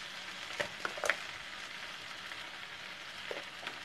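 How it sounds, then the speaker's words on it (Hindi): Beef pasta being stirred in a frying pan on a lowered flame, a soft steady sizzle with a few brief scraping stirs near the start and end, fairly quiet. "अब मैं फ्लेम थोड़ा सा लो करूँगी और इसमें पास्ता मिक्स करूँगी।"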